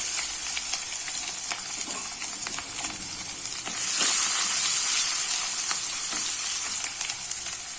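Crushed garlic and small shallots sizzle steadily in hot oil for a hotel-style garlic rasam, a dense continuous frying hiss with occasional crackles and a brief louder surge midway, close and alone.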